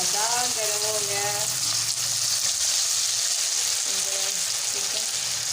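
Leftover potato karanchi snack mixture crackles and sizzles steadily in overheated oil, a close, continuous frying hiss with a voice briefly speaking at the start.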